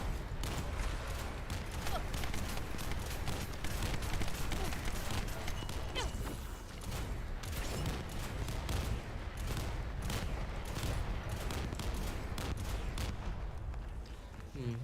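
Sustained gunfire in The First Descendant, a dense steady stream of rapid shots that goes almost unbroken, with a voice talking over the shooting.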